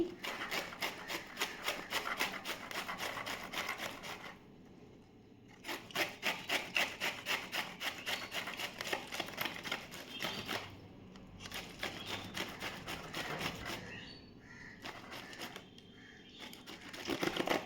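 Sour green mangoes are rubbed and grated by hand in a home kitchen, making quick rhythmic scraping strokes in repeated bursts separated by short pauses, close and fairly quiet, with no speech.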